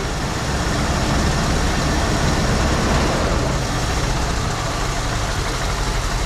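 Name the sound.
1974 Ford Bronco V8 engine idling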